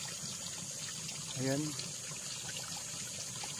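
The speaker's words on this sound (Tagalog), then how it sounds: "yung mismong tubig nandyan sa nanggagaling sa lupa maagos po siya, sagana sa tubig dito." Spring water welling up from the ground on a farm lot beside a river in Calauan, Laguna, a soft continuous trickling flow under a man's brief speech.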